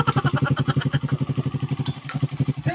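A motorcycle engine from Bohol with a leaking exhaust pipe chugs at idle in a close, steady, rapid pulsing rhythm, with a light metallic clatter over it.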